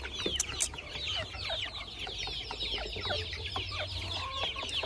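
Chickens on a small duck and chicken farm cluck continuously in an overlapping chorus of short, busy calls, moderately close, over a low background hum.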